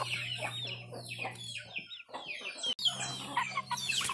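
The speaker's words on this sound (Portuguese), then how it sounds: "Aqui um frango pescoço pelado. Crista ervilha, ele tá bem grandão." Naked-neck chickens with pea combs, alongside other young chickens, cluck repeatedly in a lively, close series of calls, with brief pauses and a faint crow-like note.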